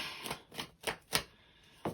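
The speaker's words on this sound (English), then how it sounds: "oh my god, these cards are falling out" Tarot cards slipping from a deck mid-shuffle, giving five separate dry card slaps and flutters spaced about every third of a second, close and fairly quiet, with no talking.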